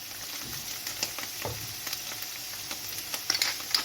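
Sheep's feet fry steadily in olive oil, giving a continuous close sizzle with small crackles and pops and a brief louder stir partway through.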